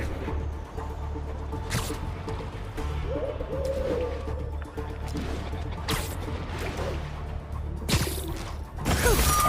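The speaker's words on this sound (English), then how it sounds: "One of Howard's pigeons." A pigeon from Howard's flock in the Spider-Man video game coos softly, then wings flap in a few sharp whooshing bursts as it takes off, over a low steady ambient rumble.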